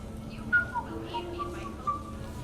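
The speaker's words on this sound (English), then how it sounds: "Are you whistling?" A character whistles in Mass Effect 3 during the Citadel DLC party, a few short tonal whistled notes that rise and fall, moderately quiet over a low background hum.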